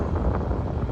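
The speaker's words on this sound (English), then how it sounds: "y'all can hear this wind now" Strong wind buffets a microphone outdoors beside a road during a long-haul truck trip, a loud, constant low rumble with gusty swells and no talking.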